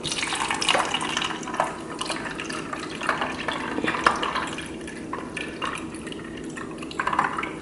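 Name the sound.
pouring hummingbird nectar through a funnel into a feeder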